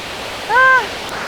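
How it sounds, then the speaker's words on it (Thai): Huai Luang waterfall, the largest in southern Isan in Ubon Ratchathani, Thailand, gives off a steady broadband rush of falling water. A brief tonal call or voice rises over it partway through. "น้ำตกห้วยหลวง น้ำตกที่ใหญ่ที่สุดในอีสานใต้เลย"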